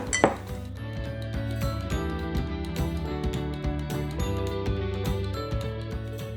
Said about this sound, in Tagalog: Haluin lang natin to para well-coated ang ating ribs.